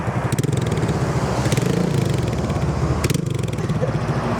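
A motor vehicle engine with a broken exhaust, heard by a roadside during a road trip in Laos: a loud, rough, rapidly pulsing putter with sharp popping bursts breaking through, close and unrelenting.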